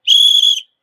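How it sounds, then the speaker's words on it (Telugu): A fan gives one short, loud, shrill blast on a whistle, lasting just over half a second, close by and with no other sound around it. "విజిల్ రాదు, విజిల్ తెచ్చుకున్నాను."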